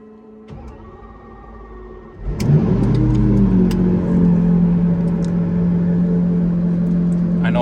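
Lamborghini Aventador SVJ engine starting up with a sudden loud roar, then settling into a strong, steady idle with a low rumble, close by.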